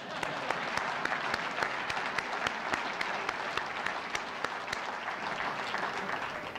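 A seated audience at a university athletic Hall of Fame induction claps steadily for an inductee, sustained even applause filling the room with no break.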